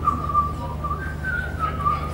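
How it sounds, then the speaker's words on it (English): A woman whistles a song, a clear steady melody with sustained notes, held close and loud for the whole span, with no talking. "One of you whistles the song."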